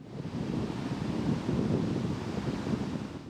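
Strong wind blows across a sea beach where people are swimming, a loud rumbling gust noise buffeting the microphone with surf washing underneath, steady throughout with no talking.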